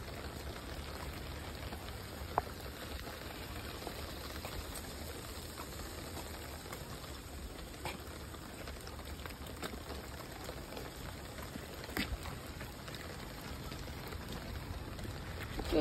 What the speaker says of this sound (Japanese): クマ、雨だから帰るよ。